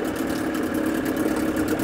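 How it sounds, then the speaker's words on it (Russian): A Suzuki DT outboard boat motor, one of the DT5, DT6 or DT8 models, idles with a steady, even mid-pitched hum. It stays at a constant loudness the whole time, with no voices over it. "Двигатель на холостых оборотах не перегревается."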